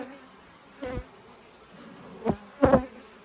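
Honey bees from a cutout colony buzz as they are hived into a Layens hive, with a faint steady hum and a few brief louder bursts as bees fly close.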